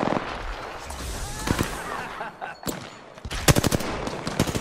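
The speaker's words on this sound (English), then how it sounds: "I started shooting at you because you're an Octane" Rapid automatic gunfire from the Apex Legends shooter game rattles in loud close bursts, pausing briefly midway before another dense volley of shots.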